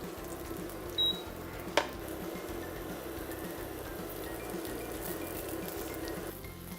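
Moong sprout and banana cutlets shallow fry in olive oil on a pan, a steady close crackling sizzle throughout, broken by a brief beep and a single sharp clack.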